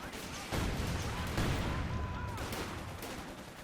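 Gunfire in the real-time strategy game Company of Heroes 2, Panzergrenadiers engaging riflemen: a dense, continuous rattle of small-arms shots with sharp cracks near 0.5 and 1.4 seconds, steady and moderately loud throughout.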